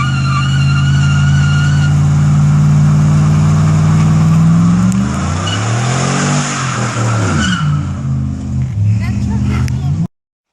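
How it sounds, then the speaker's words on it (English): A Baja 196cc small engine runs loud and close, holding a steady idle before revving up and down in uneven swells, then cutting off abruptly. "So I fired it up and just used what the gas was in there."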